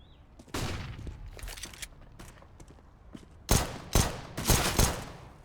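MAC-10 submachine gun fire in a Counter-Strike match on a cobblestone map comes in scattered bursts, lighter shots early then several loud, close rapid volleys near the end.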